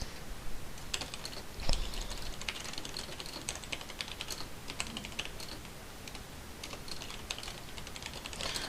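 Rapid typing on a computer keyboard, a continuous run of light clicking keystrokes at close range with one louder tap near the start, no talking.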